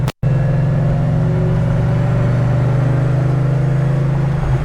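A supercharged car, tuned for 93 octane, pulls steadily under load, its deep engine drone and a faint layered whine holding close and loud throughout after a brief dropout at the start.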